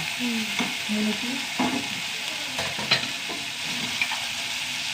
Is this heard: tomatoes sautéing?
yes